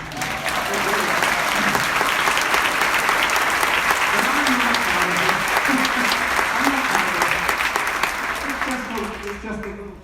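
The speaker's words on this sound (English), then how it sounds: "Could we have a round of applause?" An audience at an event opening gives a full, loud round of applause, dense steady clapping sustained for about ten seconds with voices mingled in, tapering slightly at the end.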